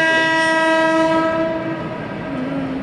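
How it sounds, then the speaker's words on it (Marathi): A freight train bound for Pune sounds its horn while passing: one loud, sustained multi-tone blast close by that eases slightly toward the end, with rail rumble beneath and no talking. "ट्रेन जाते ना, सो शूट करते. मालगाडी आहे, पुण्याला चालली"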